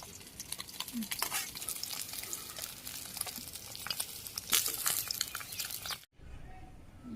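Rohu fish pieces sizzle and crackle in hot oil in a pan for a village-style curry, a loud steady fry with occasional scrapes and clinks as the pieces are lifted out, then a sudden cut to quieter sizzling.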